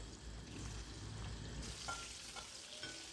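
Boiled eggs frying in oil with turmeric over a medium flame, a close, even sizzle with a few light pops and some stirring, brief and without voices.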